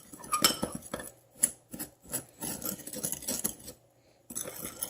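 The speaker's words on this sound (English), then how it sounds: "Now I'm going to give it a good stir." A spoon clinks and scrapes against a bowl in quick repeated strokes while stirring an apple and sugar mixture, close and clear, pausing briefly near the end.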